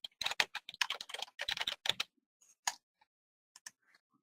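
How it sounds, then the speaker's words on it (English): Quick bursts of computer keyboard typing as a search is entered, close and crisp, a fast run of keystrokes followed by a few sparse, isolated taps. "I can type a search in."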